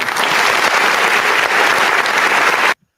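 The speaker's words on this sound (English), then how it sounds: "You want to break my applause button." A canned applause sound effect fired from an applause button plays as a dense, loud burst of clapping for under three seconds, then cuts off abruptly to silence.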